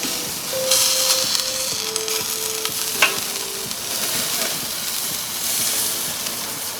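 Heavy five-pound reverse-seared porterhouse steak sizzling and hissing steadily in a hot pan as it is turned over, with a faint beeping tone and a brief clatter partway through.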